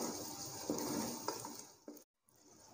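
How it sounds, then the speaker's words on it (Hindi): Blended egg korma batter roasts in oil in a pan with a quiet, steady sizzle and a few sharp spoon taps against the pan, then drops briefly to near silence. "इसको अब हम भून लेते हैं।"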